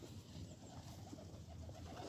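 Pigeons softly cooing in an outdoor spot with many birds gathered, low murmuring coos repeating steadily at a moderate distance over faint ambient hum, with no one talking.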